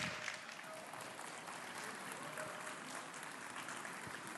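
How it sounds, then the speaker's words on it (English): An audience at the SuperMinds 2021 innovation talk applauds as the speaker is introduced. The clapping is faint and distant, a soft, continuous patter heard as if from a quiet room recording. "One big round of applause,"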